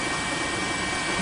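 A news helicopter flies over coverage of the 2011 tsunami sweeping the Sendai area of Miyagi Prefecture, Japan, giving a steady, dense rotor and engine roar that stays loud and even throughout, with no voices.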